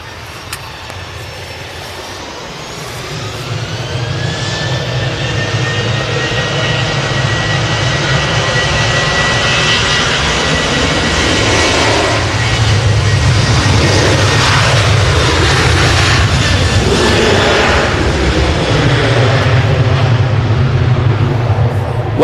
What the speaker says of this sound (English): we've just had a Ryanair 737 depart off